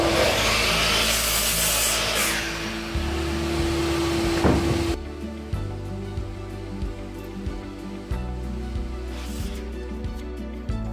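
A miter saw cutting wooden frame parts for a chicken coop, heard as loud, close cutting and motor noise with rough wood-on-blade texture that shifts in tone partway through.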